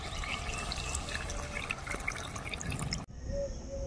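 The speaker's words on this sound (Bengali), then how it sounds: "পরিমাণ মতো আমি একটু ঝোল দেবো।" Broth is poured into a pot of chicken curry cooked with mahua fruit, giving a steady splashing trickle that ends abruptly, followed by a quiet simmering hiss.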